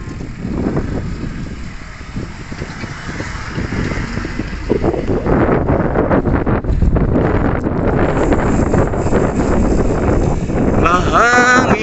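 Strong wind buffets the microphone while cycling near a hanging bridge, a steady, loud roar that swells toward the end, with no voices standing out.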